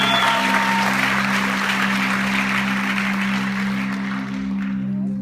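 Sustained clapping from a church congregation runs throughout, with a steady low hum underneath, loud and continuous before thinning slightly near the end.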